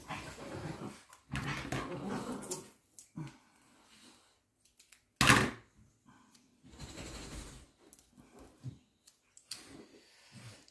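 Dogs playing roughly together, with bursts of growling, whimpering and short yips between quiet gaps and one sharp loud yelp midway, heard fairly close.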